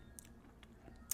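Soft, close chewing of a lemon blueberry mini cheesecake with vanilla wafer crust, a few faint moist bites and crunches spread across about a second.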